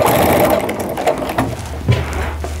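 A sewing machine stitches bias binding on a Christmas tree skirt, a loud, close, continuous mechanical whir that slows and stutters briefly near the end.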